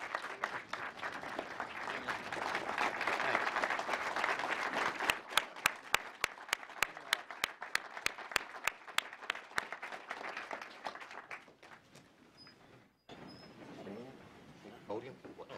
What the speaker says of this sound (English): Please stand up and give him a warm round of applause